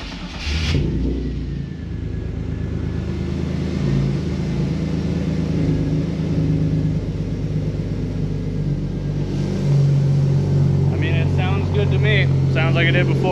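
BMW car engine idling steadily out of gear during cooling system repair, a loud continuous rumble throughout with brief clatter near the start and faint voices toward the end.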